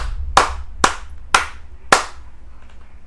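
Four sharp, loud claps spaced about half a second apart, with a fifth starting at the end, over a quiet low hum.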